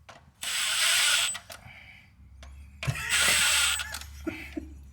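A hand ratchet clicks rapidly in two bursts while bolts are tightened during a clutch job on a Toyota JZX100, close and fairly loud, with brief workshop clatter between the runs.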